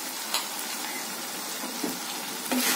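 Carrots and beans sauté with softened tomato in a pan for rava kichadi, a steady, fairly close frying hiss with a few faint stirring clicks, no talk.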